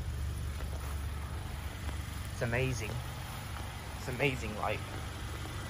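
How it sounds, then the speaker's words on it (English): A quiet car engine idles with a low, steady hum and faint mechanical rumble running throughout, while someone speaks briefly over it at close range. "So this is my car when it's on. It's idling."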